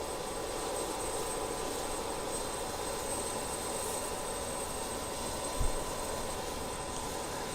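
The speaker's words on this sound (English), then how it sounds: "let's go around to engine number 2. Again, the lights are dimmed as all the power gets diverted to firing up these wonderful engines" An airliner's jet engine spins up in Microsoft Flight Simulator, a steady loud whine and roar heard from the cabin. It holds constant throughout, with a single faint thump midway and no talk.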